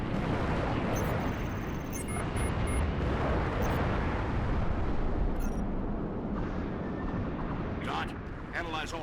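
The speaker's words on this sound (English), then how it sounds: "those cannons fucking hurt." Heavy cannon fire and explosions from a space battle in the Halo Reach video game, a loud sustained roaring barrage with brief high effects on top.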